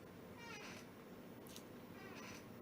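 A cat meows twice indoors, faint and short, over a steady low background hum.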